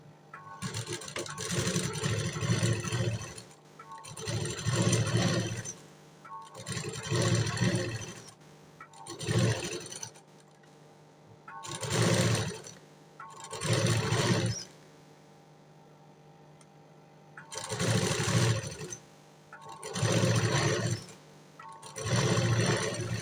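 Sewing machine stitching the canvas and lining of a Nord-style blouse together, running in repeated bursts of a few seconds each with short pauses between, loud and close with no talking.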